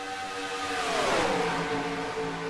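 Stock race cars at the 2018 Christmas 300 roar through turns 3 and 4 on the track, an engine swelling as one car sweeps close past mid-clip and then fades, with the drone of the field steady beneath.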